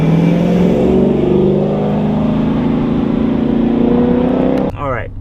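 A 2016 Dodge Challenger Scat Pack with a 6.4-litre Hemi V8 and manual gearbox revs loudly, a strong rising and falling engine note under talk, then it drops off sharply near the end.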